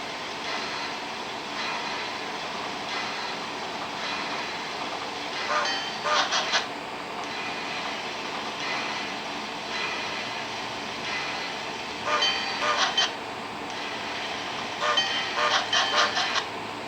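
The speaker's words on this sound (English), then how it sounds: "you'll get to hear and see some of the features of this locomotive sound" A Bachmann HO Boston & Maine 2-6-0 model steam locomotive with DCC sound chugs and rumbles steadily throughout, with a few brief bursts of hissing or squealing layered on top.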